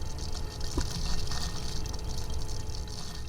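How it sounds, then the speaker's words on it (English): A machine pumps a microplastic solution through a filter, giving a steady, continuous wash of running and gushing liquid with a low mechanical rumble, close and fairly loud throughout. "pours the microplastic solution into a machine that pumps it through a filter"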